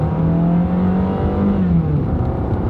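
An old Ford Focus accelerating at full throttle on a small drag strip, its engine a loud, close, steady drone that climbs gradually in pitch with no talking.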